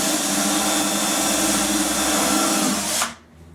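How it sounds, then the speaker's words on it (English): A power drill bores holes into a wooden TV cabinet panel, running with a steady, loud whine for about three seconds before cutting off abruptly, leaving only a faint room hum. "so that I don't drill holes back to back"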